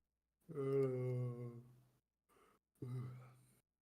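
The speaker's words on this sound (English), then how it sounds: "Was that a yawn I just heard?" A drawn-out yawn, breathy and faint, followed by a short pause and a softer sighing exhale.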